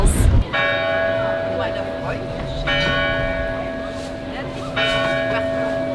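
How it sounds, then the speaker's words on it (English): Bright chimes ring out in repeated bursts, sustained bell tones lingering and overlapping, heard from a distance over a faint crowd murmur. "we're about to hear the Glockenspiel, which goes off in a few minutes"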